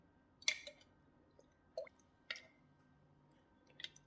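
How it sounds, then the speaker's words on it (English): A ginger bug mixture of sugar and water fizzes and pops while being stirred, giving a few sparse wet clicks and squishy bubbles spaced over a few seconds, faint and close in otherwise quiet surroundings. "there was a little bit of bubbling as I was giving that a little bit of a stir then"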